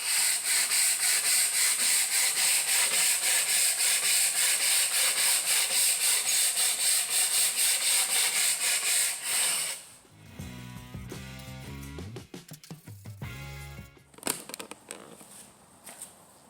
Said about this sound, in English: I'm just going to use the metal wire brush and scrub some of the dirt off it